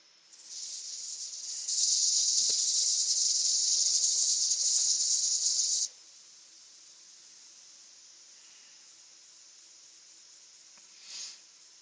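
Sanding an English oak bowl spinning on a lathe, first grit: a steady abrasive hiss swells, holds loud for about four seconds, then cuts off sharply, leaving a faint hum and one brief scrape near the end.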